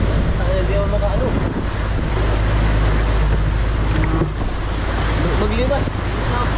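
Rough, choppy sea surges around a small boat, a steady loud wash of water and wind with engine rumble beneath, continuous throughout.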